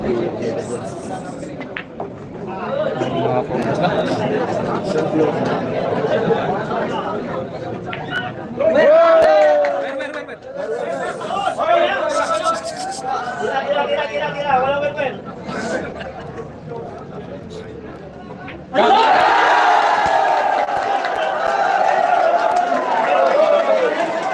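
A crowd at a billiards match shouts and roars in waves, with loud overlapping voices and chatter that swell to a peak near the end. A commentator talks over the noise.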